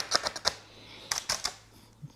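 Brittle, aged masking paper crinkles during car bodywork prep in a garage, giving sharp, close crackles in two quick clusters with a quiet gap between them.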